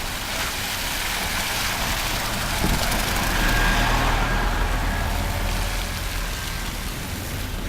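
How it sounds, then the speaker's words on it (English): A city bus approaching along Amsterdam Avenue in Washington Heights on a December morning, a steady loud engine rumble and road roar that swells toward the middle and then eases, with no talk. "Here comes a bus."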